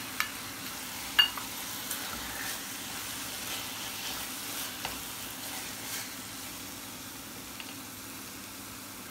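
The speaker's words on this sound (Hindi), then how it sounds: "टमाटर डाल के मैं इसको कवर कर लूँगी स्लो फ्लेम करके" Minced keema frying in a pan over a low flame as tomatoes go in, a soft steady sizzle with a few faint clinks and stirring sounds, close and quiet.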